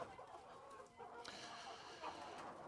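Silver laced Wyandotte hens cluck softly in a steady, close chorus of short calls over a busy yard background, with one brief louder squawk partway through.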